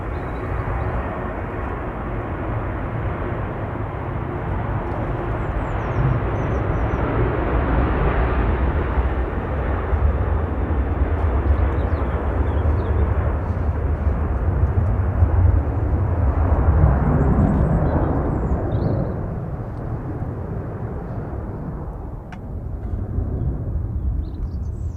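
Ryanair Boeing 737-800 taking off at Manchester Airport, a loud, sustained jet engine roar that swells over the takeoff roll and then slowly fades as it climbs away.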